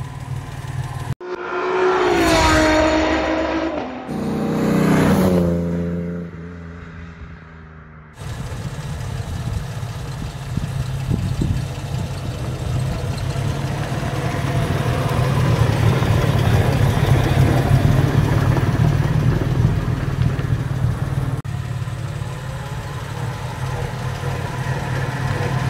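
A 1958 Lancia Aurelia B20 S GT, an Italian sports car, is driven. After a few seconds of brief tonal sounds, its engine settles into a continuous, fairly loud running note that swells slightly midway.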